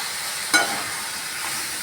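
Lentil fritters (bora) dropped into hot oil in a pan, a steady close sizzle of frying with a brief louder burst as they hit.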